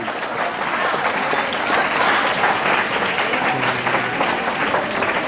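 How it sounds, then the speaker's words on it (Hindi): Audience applause at the opening of a two-day social science exhibition at a Kendriya Vidyalaya school: dense, steady clapping from many hands, loud and close, running unbroken without talk. "एक जोरदार ताली"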